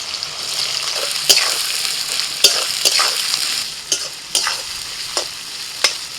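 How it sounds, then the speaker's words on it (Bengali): Chopped onions fry in hot mustard oil in a wok, giving a steady close sizzle broken by sharp, regular clanks of a spatula stirring against the metal. "তেল গরম হতে দিয়ে দিচ্ছি পেঁয়াজ কুচি।"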